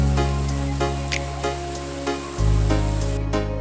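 Cipeer waterfall in a West Java park pours in a steady, dense rushing roar, with a faint periodic tapping and a low hum that shifts partway through.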